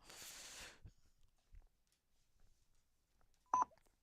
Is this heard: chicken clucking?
no